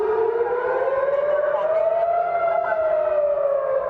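An air raid siren sounds over an Israeli neighborhood, one continuous loud wail that slowly rises and sways in pitch without a break.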